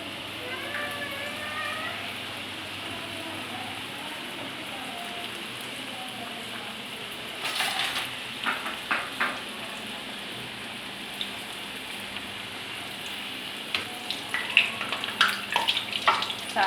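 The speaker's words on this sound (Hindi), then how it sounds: "इस तरह हमने ऑयल में इसको डाल डाल के बनाना है।" Samosas frying in hot oil, a steady bubbling hiss throughout with crackling bursts and sharper pops partway through and near the end; a voice is heard faintly early on.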